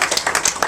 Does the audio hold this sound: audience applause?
yes